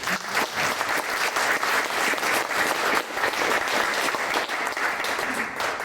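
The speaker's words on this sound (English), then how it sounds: "I think we should start out by giving a round of applause to all the people that keep us safe." An audience at a public safety forum claps warmly for several seconds, a full steady patter of many hands without speech.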